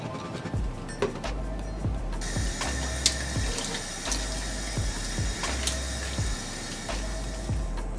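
Vegetables being washed in water by hand, with splashing, sloshing and small clinks of produce repeating throughout, close and fairly busy, with no talk.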